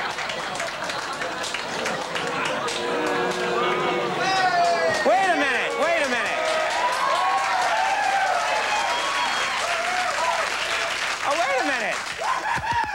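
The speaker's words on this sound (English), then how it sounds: "pity applause." A late-night television studio audience gives a thin, polite burst of pity applause with some chuckling, steady for the whole stretch, while a voice talks over it.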